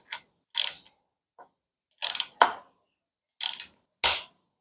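A torque wrench tightening the bolt on a Shimano road front derailleur gives off sharp ratcheting clicks in short, close bursts with brief pauses between them, clear and alone in a quiet room.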